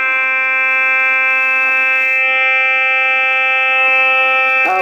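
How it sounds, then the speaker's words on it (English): Fire alarm sounding in a radio studio, a loud, steady electronic tone holding continuously throughout with no talk. "We have a fire alarm that went off here."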